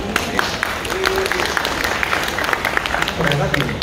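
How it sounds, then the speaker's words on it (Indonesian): Audience applause at a business talk on digital transaction growth, a dense patter of claps spread across the room over a murmur of crowd noise and faint voices. "tepuk tangan buat ada"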